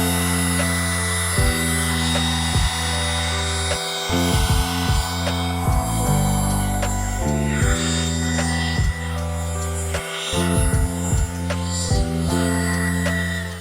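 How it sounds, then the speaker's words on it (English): A small Ryobi USB lithium handheld blower runs with a steady, close motor whine, blasting sawdust off a table; its airflow hum pauses briefly twice and shifts pitch midway. "let's see how this little blower does for cleaning off our table"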